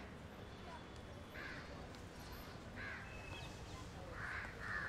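A crow caws several times at a distance in the second half, the calls spaced out over a steady outdoor background hum.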